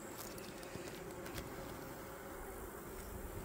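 A faint, even hum of honeybees rises from an opened hive during a colony check and honey harvest, the buzzing steady and soft, with a few light ticks and taps early on.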